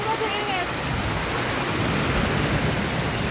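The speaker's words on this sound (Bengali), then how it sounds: "এই দেখো বৃষ্টি হচ্ছে, দেখো" Heavy rain from the edge of Cyclone Remal pours down steadily nearby, a dense, unbroken hiss that holds at the same loudness throughout.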